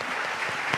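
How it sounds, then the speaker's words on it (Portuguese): A church congregation keeps up a dense, continuous burst of clapping, many hands at once, loud and even, with no break. "A gente só vai parar de aplaudir quando o último passar pela porta"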